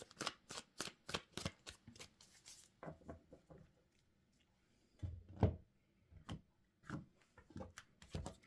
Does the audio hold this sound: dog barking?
no